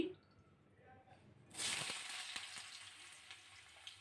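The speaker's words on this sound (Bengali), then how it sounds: "প্রথমে আলুগুলো একটু ভেজে নিচ্ছি" Diced potatoes hit hot mustard oil in a pan after a quiet start. A loud, bright sizzle bursts in and then settles into a steady crackling hiss, with a few soft clinks.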